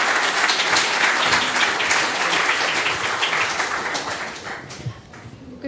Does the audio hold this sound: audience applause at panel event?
yes